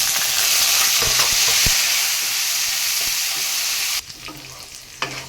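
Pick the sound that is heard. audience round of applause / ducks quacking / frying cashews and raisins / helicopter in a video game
frying cashews and raisins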